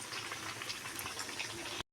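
Poha cutlets fry in hot oil, giving a soft, even bubbling sizzle close by, without talk, which stops abruptly at the end.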